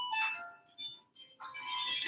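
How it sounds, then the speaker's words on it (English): An alarm clock rings faintly in the background of a quiet room, a thin electronic melody of repeating tones with brief gaps, distant and low in level. "you can hear my roommate's alarm clock in the background."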